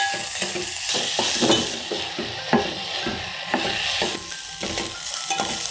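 Long-cut green chillies fry in oil in a pan as the base for a South Indian prawn curry with coconut gravy, giving a steady, loud sizzle broken by the scrape and clink of stirring, with no talking.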